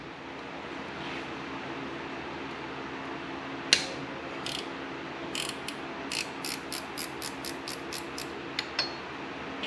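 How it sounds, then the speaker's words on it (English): A wrench ratchets on Honda Goldwing engine bolts. A single click is followed by a run of about a dozen quick, crisp clicks in an uneven rhythm, close by over a faint background hum. "That one, I have to get a wrench."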